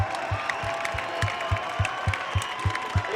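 Stadium crowd applauding and cheering after the final goal of a women's under-23 championship final, Japan beating the USA, with a steady wash of clapping and a regular low thumping beat running underneath.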